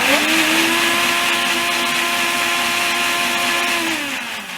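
A blender motor whirs loudly and steadily at high speed for several seconds while making pimiento cheese sauce, its pitch rising briefly at the start and winding down at the end.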